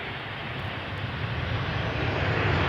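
A KLM Boeing 737 airliner arriving at Amsterdam Schiphol gives a steady, fairly close broadband engine roar that builds slightly over a few seconds, with no voices.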